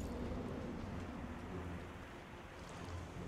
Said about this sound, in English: We're on the deck of the ship. There's a storm.